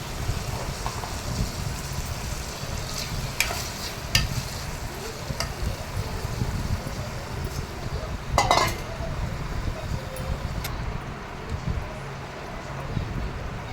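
Pigeon pea seeds being stirred in a pan for a curry make a continuous scraping, sizzling rustle with occasional light clinks of a utensil against the pan.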